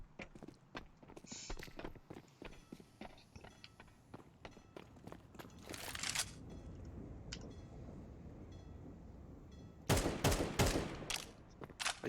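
Bursts of gunfire in Counter-Strike 2, scattered footsteps early on, then a rattling volley around the middle and a louder cluster of rapid shots near the end, no talking.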